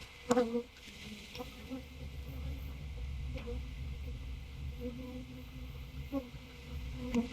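Honeybees from a nuc being shaken into a full hive give off a steady, close insect buzz and drone throughout, with a few brief knocks and handling sounds on top.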